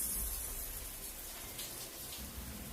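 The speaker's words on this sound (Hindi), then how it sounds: "मैं बाथरूम में गई और मैंने शावर ऑन किया।" A shower runs in a bathroom, giving a steady, soft hiss of falling water throughout. It is quiet and heard alone, with no voices.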